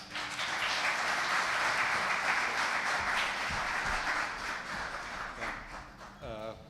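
An audience applauds steadily to welcome the inaugural speaker, the clapping moderately loud and fairly even before it fades, with a voice starting to speak near the end.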